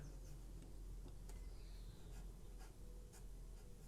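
Graphite pencil scratching across paper while drawing a rectangle for a Stoke City football club badge, a quiet steady scribble with a few faint sharper ticks as the strokes change direction, close and alone.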